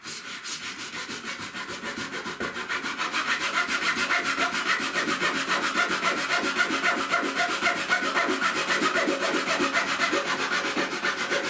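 Rasping and sanding the wooden corner of an Epiphone acoustic guitar headstock held in a vise, a loud continuous run of rapid rhythmic scraping strokes, close and steady, with no talk.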